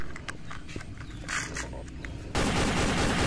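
A toy military helicopter's gun sounds off with a sudden, loud burst of dense rattling fire that starts abruptly after quiet handling noises and keeps going steadily to the end.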